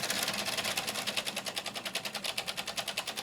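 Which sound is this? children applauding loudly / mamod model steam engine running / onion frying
mamod model steam engine running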